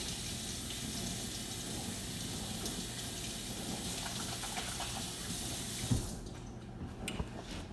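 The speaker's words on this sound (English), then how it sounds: "Wash my hands again." Tap water runs steadily while hands are washed under it at a kitchen sink, a close continuous splashing rush that eases into softer trickles and drips near the end.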